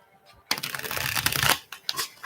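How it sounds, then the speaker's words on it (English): A tarot card deck is shuffled close up, giving a dense one-second riffle of flapping card edges followed by a few lighter taps as the cards settle. "Let me just shuffle a little bit more, and then we can get going."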